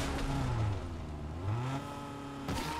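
A Rocket League car engine in a video game revs up and down in quick swells and dips, loud and close, with no speech over it.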